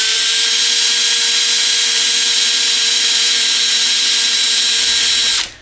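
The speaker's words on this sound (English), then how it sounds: "Drill 4mm holes." A power drill bores 4mm holes, a loud, steady high-pitched whine held for several seconds before spinning down abruptly at the end.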